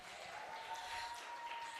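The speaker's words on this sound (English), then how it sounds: "let's give them a round of applause" Applause from an audience at a women's community event honouring its speakers, a fairly faint, steady patter of clapping throughout with a thin sustained tone running underneath.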